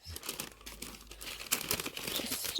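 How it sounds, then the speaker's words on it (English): Tissue paper crinkles and rustles continuously at close range as a beauty subscription box is unwrapped, with a brief sharper tearing burst midway. "So lovely tissue paper."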